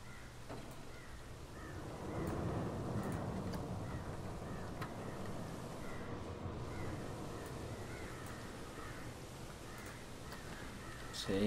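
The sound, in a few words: crows cawing in the video game Planet Coaster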